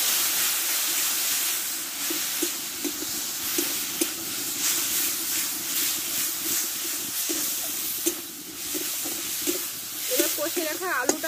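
Spice masala with coriander leaves and turmeric sizzles steadily in a pan after a splash of water goes in, a loud continuous hiss and steam with light stirring scrapes and some crackle near the end.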